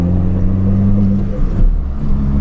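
A Peugeot 206 car drives with a steady low engine drone and humming tone heard from inside the cabin with the windows closed, continuous and fairly loud with no talk.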